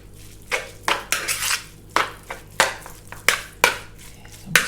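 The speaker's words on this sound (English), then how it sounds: "going to use this spoon now, and I'm just going to mix that in" A metal spoon scrapes and taps against a pan while mixing pork balls into a creamy mustard sauce, giving about a dozen sharp, close clinks and scrapes in an irregular rhythm with little else around them.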